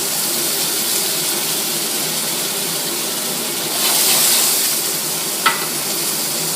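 Onions sizzle steadily in a hot pan, a constant hissing fry that swells briefly midway, followed by a short clink.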